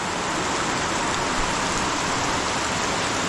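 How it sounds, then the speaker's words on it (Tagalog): Steady rain falls outdoors on a rural farm plot during a taro harvest, a dense continuous hiss with no breaks or voices. "Tumudo na ang ulan mga kautol."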